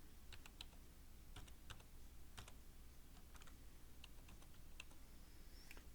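Keys clack on a computer keyboard as someone types a password into a login screen, a steady series of soft, quick taps in small bursts over a low background hum.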